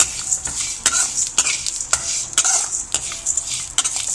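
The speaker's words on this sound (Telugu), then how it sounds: "ఆవాలు బాగా చిచ్చుతా ఉంటాయి అన్నమాట" Mustard seeds splutter in a hot pan while spices are dry-roasted for homemade garam masala: a close, bright crackling hiss broken by repeated quick pops and stirring scrapes, with no talking.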